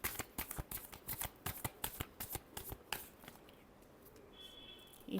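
Tarot cards being shuffled by hand in a rapid run of crisp riffling snaps, close and fairly loud, then easing into quieter rustling with no talk.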